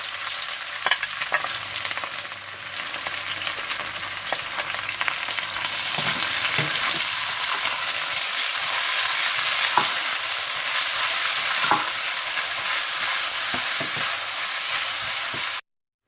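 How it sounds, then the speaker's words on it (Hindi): Onions frying in hot desi ghee until golden brown give a steady, close sizzle that builds and thickens partway through, with occasional spatula scrapes and no voices. "देसी घी गरम करने के बाद आप इसमें प्याज डाल दें और इन्हें गोल्डन ब्राउन कर लें।"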